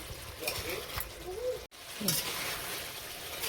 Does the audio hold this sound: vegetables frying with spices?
yes